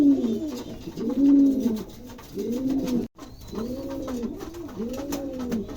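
King pigeons in a loft coo repeatedly in close, rounded, rolling phrases, about five cooing bouts in succession with a brief gap midway, no talking over them.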